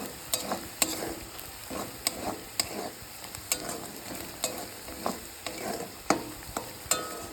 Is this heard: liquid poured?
no